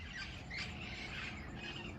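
Parrots squawk in a garden on a cool evening, several shrill calls overlapping at a distance over a steady low background hum.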